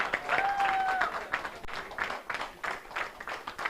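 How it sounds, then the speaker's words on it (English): An audience at a climate justice summer school in Nairobi claps steadily for a student, a dense, close burst of applause with a few voices calling out over it. "Clap for her."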